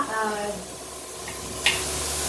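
Anarse, a Marathi rice sweet, frying in overly hot oil, giving a steady close sizzle with a brief sharper spit near the end; a voice talks faintly underneath.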